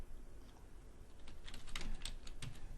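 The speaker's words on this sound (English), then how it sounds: "type your city in again." Typing on a computer keyboard to enter a city name into astrology charting software, a quick burst of soft key clicks that thickens toward the end, fairly faint over a low background hum.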